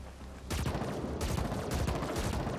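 Burst-fire gun with homing bullets in The Ascent, a video game, rattling off dense, continuous volleys of rapid shots at close range, loud and sustained with brief shifts between bursts.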